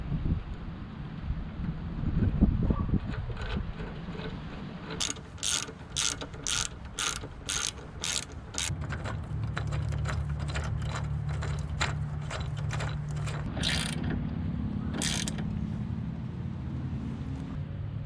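3/8 ratchet with an extension tightening crash bar bolts on a Road Glide Special: a rapid series of crisp clicking strokes in a steady rhythm, close and distinct, followed by a few scattered clicks over a low background rumble.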